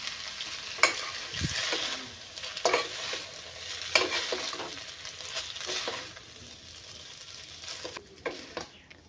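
Noodles being stirred and mixed with salt in a frying pan, a steady sizzle under repeated scraping strokes and soft clinks of the utensil, close and fairly loud throughout.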